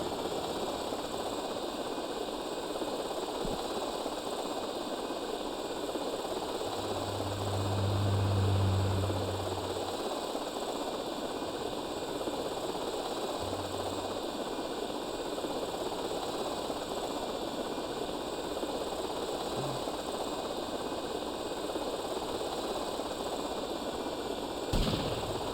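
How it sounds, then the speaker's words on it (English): Helicopter in GTA Vice City hums as a steady, fairly faint rotor drone through the whole stretch, with a brief louder low swell midway and a few scattered soft thuds. "See, I'm gaining as much altitude as I can to avoid them shooting my helicopter."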